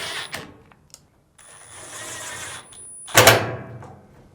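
Power screwdriver driving Phillips screws back into a Fisher & Paykel dryer: a short whirring run, then a louder buzzing burst with clicks and handling noise, close by.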